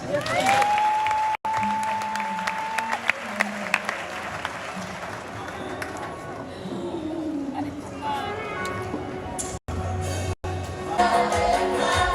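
Applause offered to God at a Christian worship gathering, a dense, steady wash of clapping that runs nearly the whole time with voices over it and a few brief dropouts.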